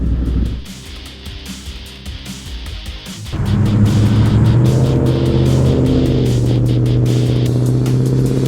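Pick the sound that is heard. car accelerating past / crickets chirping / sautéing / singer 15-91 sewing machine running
car accelerating past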